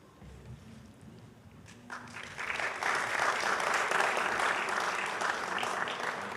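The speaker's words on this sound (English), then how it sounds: "You see how they were cheering just now." An audience at a school literary competition award ceremony breaks into applause that starts faint and quickly swells into steady, dense clapping, which holds loud to the end, with a voice briefly heard at the start.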